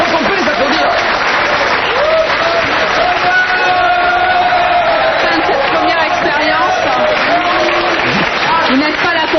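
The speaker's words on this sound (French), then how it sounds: "Et ça qu'on peut les applaudir" Loud, continuous applause from a studio audience at a French talk show, dense clapping mixed with whoops and cheers throughout.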